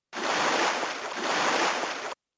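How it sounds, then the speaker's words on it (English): A whale call from a VTech animal alphabet train toy (2005 UK version) plays as a steady, airy whoosh of ocean-like noise lasting about two seconds, then stops abruptly. "A whale makes the sound."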